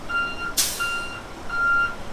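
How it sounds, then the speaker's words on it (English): Truck backing up at a work site, its reversing alarm sounding as steady high electronic beeps, with a sharp burst of air brake hiss partway through over low engine rumble. "guys are backing up trucks"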